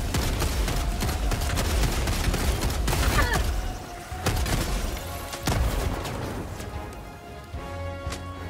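Dense, rapid bursts of heavy gunfire and booming impacts from an autocannon sentry in Helldivers 2, loud and nearly continuous with a few short lulls between volleys.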